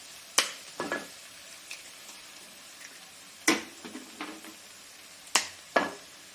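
Chili powder masala fries quietly in a pan, a faint low sizzle interrupted by three distinct bursts of spatula scraping and clatter spaced a couple of seconds apart.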